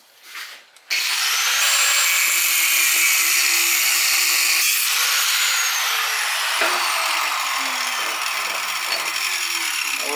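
A power cutting tool slices through the metal of a custom Honda Shadow shifter arm in one long, loud, close, high-pitched grinding cut, the pitch sagging slightly toward the end, with no talking.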